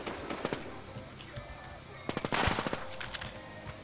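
Video game gunfire crackles in bursts, a few quick shots early, then a denser rapid volley mid-way with scattered reports after, moderately loud with faint background chatter.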